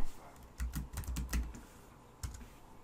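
Typing on a computer keyboard, a short run of quick close key clicks in two bursts with a brief pause between, heard alone.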